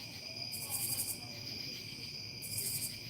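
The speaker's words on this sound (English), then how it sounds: "Y'all hear the crickets?" Crickets chirp in two distinct bursts of steady, high trilling over a faint continuous insect hum, no speech heard.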